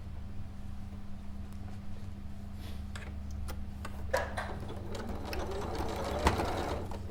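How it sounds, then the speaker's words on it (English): A sewing machine stitches two fabric stomach pieces together for a quilt and cushion project. Its motor hum runs quietly and steadily while scattered clicks and taps are heard through it. "so I'll just put the 2 stomach pieces, one on top of the other, and sew together along the front here."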